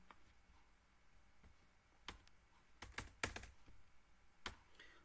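Sparse, scattered keystrokes on a computer keyboard while an online exam application form is filled in, with single clicks and a short cluster of quick taps heard close up against a quiet background.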